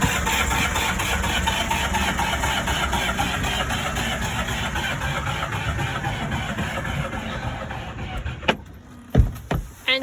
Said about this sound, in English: Engine's not starting, Sophie.